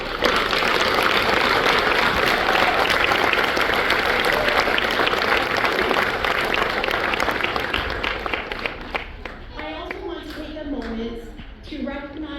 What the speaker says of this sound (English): Please give our graduates a round of applause.